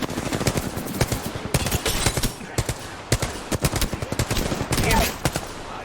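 Rapid bursts of video game gunfire crack repeatedly throughout a multiplayer team shooter fight, loud and dense, with scattered voices in the mix.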